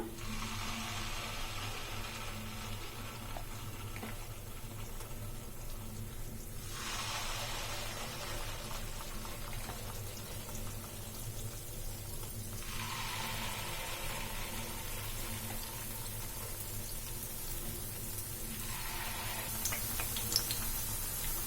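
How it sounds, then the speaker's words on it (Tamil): Sweet bonda batter fries in hot oil, a steady close sizzle and bubbling that swells in several waves as more batter goes in, with no talk over it. "இப்போ நம்ம ரெடி பண்ணி வச்சிருந்த மிக்ஸை வந்து கொஞ்சமாக கரண்டியில் எடுத்து இதில் ஊற்றிக்கலாம்"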